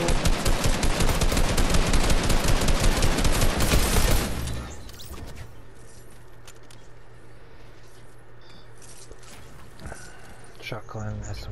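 Rapid automatic assault rifle fire in Fortnite rattles loud and close for about four seconds, then cuts off, leaving quieter game ambience with faint clicks and movement.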